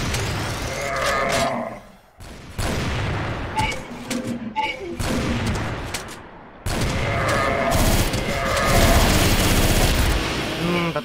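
A Gatling gun in a zombie-mode shooter game, rapid continuous bursts of heavy fire, loud and close, broken by short pauses, with game effects and excited players' voices mixed in.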